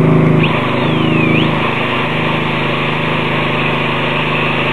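An extended drill bores into a tree trunk to fit cable and rod bracing, a loud, steady grinding drone that carries on without pause.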